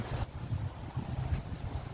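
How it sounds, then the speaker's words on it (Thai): Strong cold wind blows through a forest, heard as a low, rumbling buffet that swells and eases in gusts, close and moderately loud. "มีลมแรง"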